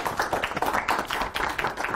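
Audience applause for a school team at a student quiz tournament's captains' duel round, a steady patter of many hands clapping close by for about two seconds with no one speaking.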